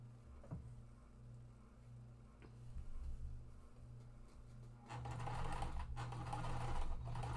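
Domestic sewing machine stitching two quilt blocks at once with a quarter-inch seam, a steady close whirring hum that grows louder and busier partway through, with no talking.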